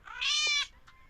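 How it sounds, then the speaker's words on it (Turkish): A cat gives a single clear, drawn-out meow, close and fairly loud, followed by quiet. "Bakın şurada şöyle bir kedimiz var"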